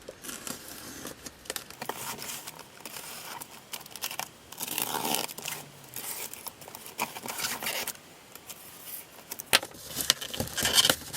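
Packaging of a Metcal MX-5251 soldering station being unwrapped: irregular crinkling, tearing and rustling of plastic and cardboard close by, with jangling bits and bursts of handling noise and no talk.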